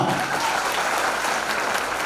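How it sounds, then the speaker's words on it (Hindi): Loud, sustained audience applause fills the hall at a Mumbai program, a dense steady wash of clapping from many hands with no talk over it. "जोरदार तालियां।"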